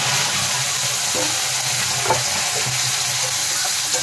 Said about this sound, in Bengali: আর এখন যেই মশলাটা আগে পেস্ট করে নিয়েছি সেটা দিয়ে দিলাম